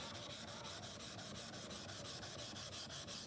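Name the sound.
sharpening a Japanese kanna plane blade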